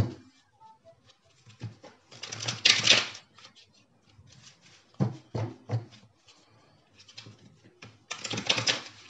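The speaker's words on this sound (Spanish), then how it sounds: "Ahora vamos a sacar nuestras 8 cartas del tarot del corazón." Tarot cards drawn from a deck for a love reading, a few close, soft bursts of shuffling and sliding card noise separated by quiet pauses.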